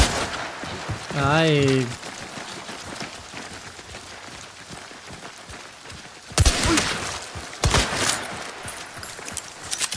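Sparks pistol shots in the game Hunt: Showdown 1896, sharp broadband cracks clustered in the second half, loud and close, with someone talking briefly early on.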